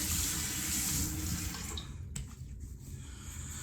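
Water running from a tap at a bathroom sink while re-wetting the face before shaving alum, a steady faint hiss that tapers off as the flow is shut, then quiet.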